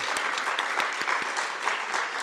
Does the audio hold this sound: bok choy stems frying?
no